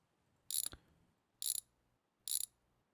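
Three short metallic ratcheting bursts from a socket wrench backing out cylinder head intake bolts in a garage repair game, evenly spaced and fairly close, each a quick clicking rattle with quiet gaps between.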